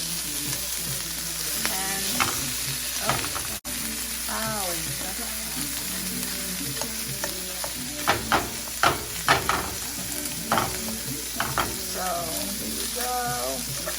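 Corned beef frying and sizzling in a pan with a steady hiss, broken by repeated scraping and clinking strokes of a utensil as it is stirred and mashed; faint voices talk in the background.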